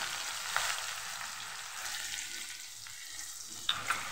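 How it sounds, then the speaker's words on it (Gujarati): Green onions sautéing in hot oil with asafoetida while cooking a Kathiyavadi sev, green onion and tomato curry, giving a steady close sizzle with a few brief stirring clinks and no talking. "અને લીલી ડુંગળી ઉમેરી દઈશું."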